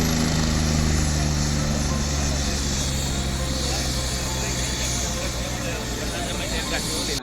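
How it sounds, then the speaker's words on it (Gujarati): A helicopter carrying a groom and his family at a Gujarati wedding takes off with a steady, loud, broadband rotor and engine roar that lasts throughout, with a voice speaking over it. "આ હેલિકોપ્ટરે જ્યારે ઉડાન ભરી"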